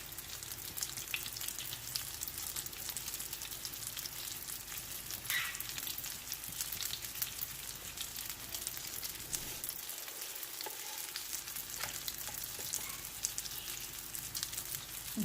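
Egg-dipped bun kabab patties fry in a pan with a steady, close crackling sizzle that holds throughout, with a slight dip partway through and occasional faint clinks. No one speaks.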